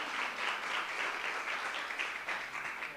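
School board meeting audience applauding as school administrators come up to the front, a steady, dense wash of clapping throughout with no pauses.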